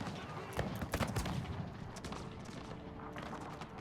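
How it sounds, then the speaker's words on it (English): Scattered musket volleys crackle from massed infantry units in a strategy video game set in 1830s France, a few sharp reports standing out over a busy battle din, with cannon fire above. "as the units fire their muskets"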